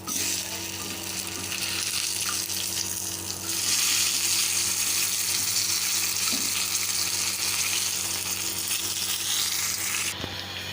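Eggplant slices fry on a hot tawa with a continuous, fairly loud sizzle that grows brighter and more intense partway through, punctuated by a few faint clinks, with no one talking.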